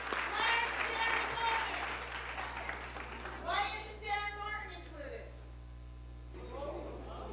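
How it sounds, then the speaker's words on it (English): Audience applause for honorees at a Newark Public Schools board meeting, moderate clapping in a meeting room that thins out while people talk over it and continue speaking afterward. "Let's give our honorees a round of applause and a big thank you"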